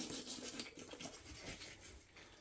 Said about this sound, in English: Cut right along that natural seam.